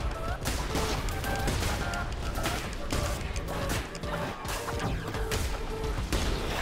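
A boss's shooting attack in the video game Cult of the Lamb: a dense, continuous barrage of rapid gunfire-like blasts and crashes, loud and sustained with no pause.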